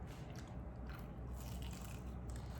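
Crunchy bites into a crispy Korean-style corndog filled with cheddar cheese, a close, steady crackling chew with no talking over it.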